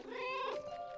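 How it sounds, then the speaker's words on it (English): A cat in the 11-11 Memories Retold video game lets out a single drawn-out, slightly whiny meow, close and fairly quiet, with a faint room tone behind it. "It's the cat."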